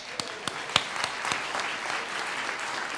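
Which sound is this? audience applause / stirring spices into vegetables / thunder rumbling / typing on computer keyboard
audience applause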